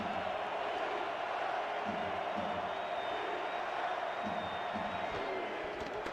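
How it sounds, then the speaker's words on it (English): Crowd at a football game chanting "defense", a steady distant roar of many voices with rhythmic swells, heard under a commentator's voice. "Crowd chanting defense."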